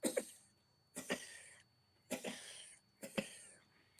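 Voice imitating a child's curled-tongue cough, four short raspy wet coughs spaced about a second apart, close and fairly quiet.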